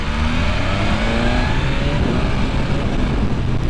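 A 2022 BMW S1000RR sport motorcycle with a ShiftCam engine, being ridden during break-in miles, revs and accelerates with a loud, continuous engine roar and rising pitch sweeps, steady for nearly four seconds with no talking.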